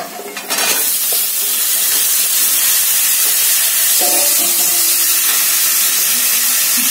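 Vegetable stalks sauté loudly in hot oil with chilli and turmeric powder, a close, steady hiss and sizzle with occasional scrapes and knocks of stirring, no voices.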